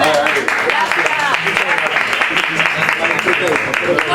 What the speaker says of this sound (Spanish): un aplauso para Pablo y su paella